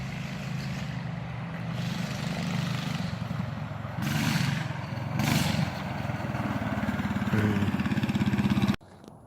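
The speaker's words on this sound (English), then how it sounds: "he put the straight pipe exhaust on that 420. God, that thing is so loud." A loud, raspy small kart engine with a straight-pipe exhaust revs continuously, rising and falling in pitch with several harder bursts, before cutting off abruptly near the end.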